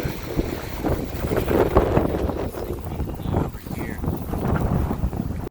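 A strong gust of wind, around 40 miles an hour, roars against the microphone during a fly fishing trip on a river in Montana, a loud steady rumble that fills the whole clip.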